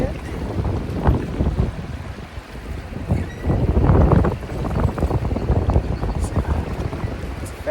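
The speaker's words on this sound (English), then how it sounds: "I'm crossing the river in the new raft shuttle, which is pretty cool." Wind buffets the microphone while a rowed raft shuttle crosses a fast-moving river on the Appalachian Trail, with water rushing and sloshing in uneven surges around it.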